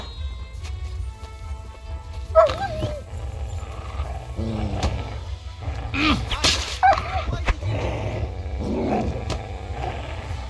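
Dogs snarling and yelping while being stabbed by an armored man in Kingdom Come Deliverance 2, harsh growls and sharp cries scattered over a low steady rumble, with occasional clanks.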